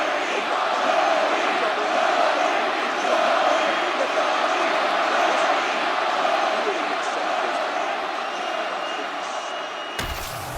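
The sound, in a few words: arena crowd in the video game EA Sports UFC 6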